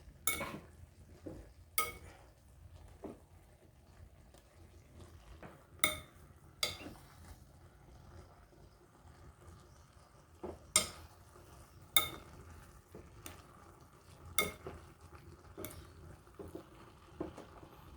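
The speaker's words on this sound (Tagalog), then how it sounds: "Tapos halu-haluin lang natin guys." Papaya atchara gets stirred in a pot, with scattered sharp clinks of a utensil against the container and soft wet mixing sounds between them, fairly quiet and irregular.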